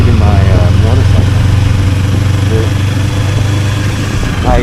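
A 2025 Kawasaki Ninja 500 SE KRT motorcycle idles close by with a steady, even low rumble and no revving, running alone for several seconds.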